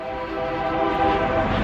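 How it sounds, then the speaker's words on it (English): A large passing train rumbles steadily and fairly close, with sustained tonal horn-like bands over a continuous roar that swells slightly midway, heard alone without talk. "there's a giant train."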